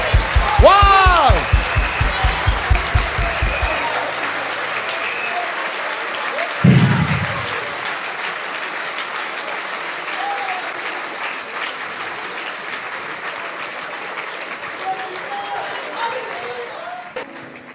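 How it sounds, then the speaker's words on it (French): An audience at a church service breaks into loud, sustained applause and hand clapping, a dense crowd roar that carries on steadily with voices over it. "Let's give him a hand clap."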